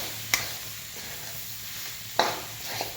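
Potatoes sautéing in hot oil in a pan give a steady soft sizzle up close, broken by a few sharp scrapes and clinks as they are stirred, with no talk.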